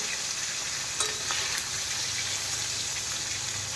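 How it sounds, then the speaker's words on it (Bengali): Potatoes fry in a wok with a constant, even hiss of hot oil. A few faint clicks and taps, likely from stirring, sound over the steady sizzle. "ওটার আগে উঠে আলু ভাজি ভাজা বসিয়ে দিয়েছি"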